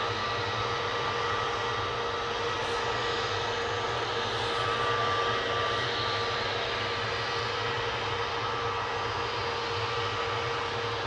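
A KLM Boeing 737-800 jet, flight KL 1036, registration PH-BXA, at Manchester Airport at sunset gives a continuous, fairly loud broadband engine roar with a faint steady tone running through it, with no voices.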